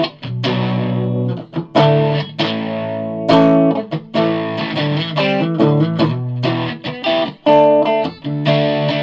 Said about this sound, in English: the distortion pedal's kicking in on the orange much quicker.